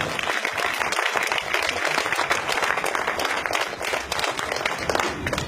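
Steady, dense applause from a church congregation during a sermon, a sustained wash of clapping hands at moderate level throughout, with no voices standing out.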